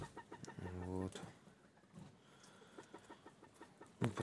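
Chickens clucking close by in a henhouse, with a rooster-like call near the start and scattered short clucks and scratchy noises after, fairly quiet overall.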